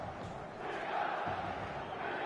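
A football match day crowd in a video game, a steady roaring wall of supporters' voices at moderate distance, continuous and fairly faint, with no distinct calls standing out.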